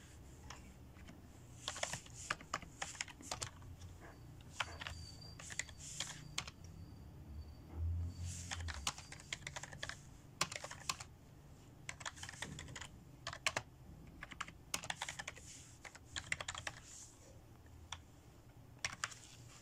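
Computer keyboard typing as text is entered, with rapid clicking keystrokes arriving in irregular bursts and short pauses, close and moderately quiet, with no talking.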